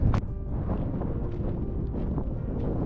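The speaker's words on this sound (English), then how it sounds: "it's super windy here." Strong wind buffets the microphone in a constant low rumble, with gusty roaring and no talking, in Canada's Northwest Territories near the Arctic Circle.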